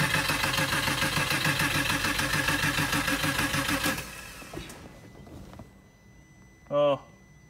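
A Fiat 500 Prima Edizione's starter churns the engine in a fast, even mechanical pulse for about four seconds, then cuts out to near silence before a brief voice is heard close by.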